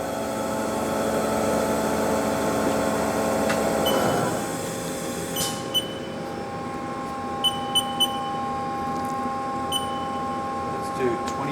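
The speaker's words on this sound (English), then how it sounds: "1500 RPM. Still nice and quiet." A Haas SL-10 CNC turning center spindle runs at 1500 RPM with a quiet, steady tonal hum, a louder rise that fades around four seconds, then a few light clicks over the constant drone.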